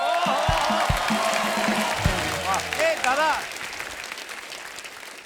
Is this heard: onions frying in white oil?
no